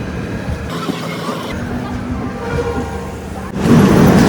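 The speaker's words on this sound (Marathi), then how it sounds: "थोड्याच वेळात आता ट्रेन थांबेल मथुराला." Passenger train arriving and slowing to a stop at Mathura station: a steady rumble of the moving carriages with a louder surge near the end, heard from inside the train.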